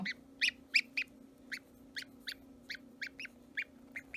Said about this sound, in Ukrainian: І зовсім здоровий гусьонок.